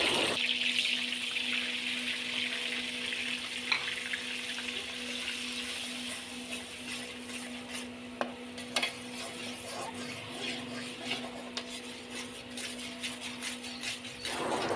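Gram flour roasting in ghee with cardamom for mango halwa makes a low steady sizzle in a pan, punctuated by occasional spoon scrapes and clicks as it is stirred, with no talking.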